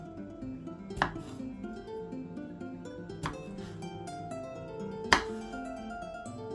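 A knife slices cherry tomatoes in half on a cutting board, three sharp distinct chops spaced a couple of seconds apart over a soft steady background hum.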